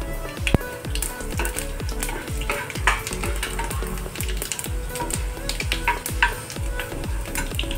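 Mustard seeds and cumin crackle and sizzle in hot oil with rapid, irregular pops over a steady frying hiss, close and continuous without any talking.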